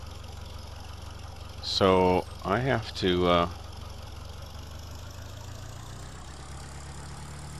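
A tractor engine idles in Farming Simulator 2013 with a low, steady drone running throughout, while someone speaks briefly over it partway through.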